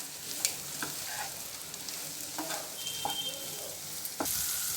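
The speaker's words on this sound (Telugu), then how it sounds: "వీటన్నిటిని కొంచెం అట్లా ఫ్రై చేసుకుందాము." Chopped chilli, capsicum and curry leaves frying in a pan for egg noodles, a soft continuous sizzle broken by a few scraping stirs and clinks, fairly quiet with no speech.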